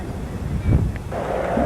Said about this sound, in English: very, very windy south wind today